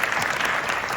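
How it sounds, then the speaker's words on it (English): A panel discussion audience claps steadily for a panelist, dense even applause from a crowded room, with no voices over it. "So give it a round of applause for Omar"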